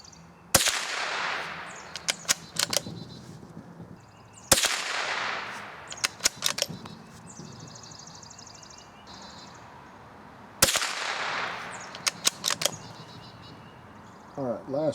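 Three sharp, loud cracks from a bolt-action rifle firing CCI Blazer .22 rounds outdoors, each about four to six seconds apart and followed by a short echo tail, with brief voices heard between shots.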